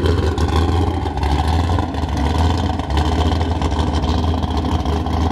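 An 1100-horsepower Corvette engine pulling away in a bay, a loud, dense, continuous roar heard from inside or close by, with no clear gaps.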